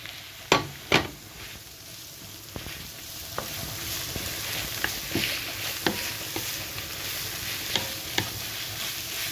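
Carrots and onion fry in a pan with a constant sizzle while a utensil stirs and scrapes, giving a few sharp knocks early on and lighter taps after; nobody speaks.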